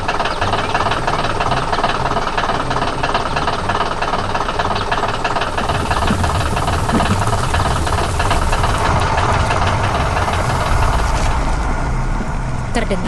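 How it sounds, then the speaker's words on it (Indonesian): The engine of a yellow digging machine in an animated scene runs hard as it digs soil, making a loud, steady knocking rumble that goes on throughout, with a voice speaking over it. "Terdengar suara mesin yang bekerja keras"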